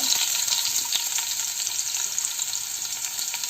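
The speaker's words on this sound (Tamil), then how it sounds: "இந்த பூண்டு வேகக்கூடிய அளவுக்கு, எண்ணெயில் வதங்கக்கூடிய அளவுக்கு கொஞ்சம் அப்படியே கிளறி விட்டுப்போம்" Garlic sizzles and crackles in hot oil over a low flame, a dense, steady frying hiss with occasional stirring clicks.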